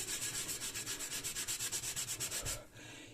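Rapid, rhythmic scrubbing of a stiff brush, steady back-and-forth strokes up close, stopping abruptly near the end.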